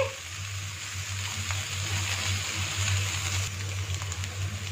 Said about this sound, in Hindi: अब इसमें चिकन ऐड कर देते हैं, मिक्स करेंगे।